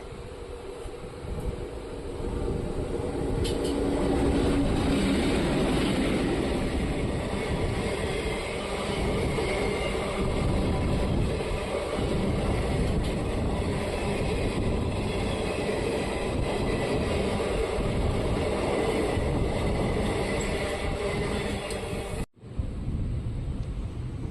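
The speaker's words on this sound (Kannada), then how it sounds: "ಚಿಕ್ಕಜಾಜೂರಿಂದ ಗುಂತ್ಕಲ್ಗೆ ಹೋಗೋ ಪ್ಯಾಸೆಂಜರ್ ಟ್ರೈನ್ ಬರ್ತಿದೆ" A passenger train from Chikkajajur to Guntakal arriving, a broad, steady rumble that swells early and holds loud for a long stretch before cutting off abruptly near the end.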